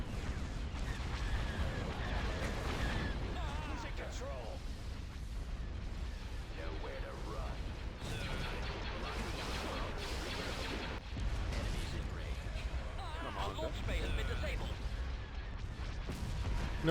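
Iron cannons firing in a Star Wars: Empire at War space battle mod, a dense continuous barrage of booming blasts and rumbles at moderate level throughout, with occasional louder bursts.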